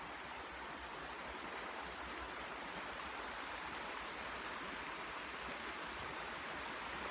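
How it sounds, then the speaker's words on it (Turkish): A stream flowing past its bank at night, a steady, soft broadband rush of water that stays even and unbroken, with no voices. "Bir dere kenarı"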